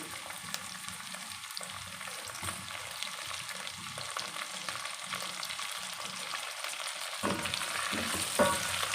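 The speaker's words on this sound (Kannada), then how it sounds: "ಟೊಮೊಟೊನ ಚೆನ್ನಾಗಿ ಫ್ರೈ ಮಾಡ್ಕೊತೀನಿ ಫ್ರೈ ಮಾಡಬೇಕು" Tomatoes frying in hot oil for a brinjal gravy, a steady close sizzle that runs throughout, alone with no talk, growing slightly louder near the end with a few scraping stirs.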